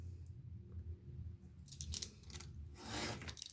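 Scissors trim the paper surplus from a pop-up album page, giving a couple of brief, close snipping and rustling cuts over quiet room tone.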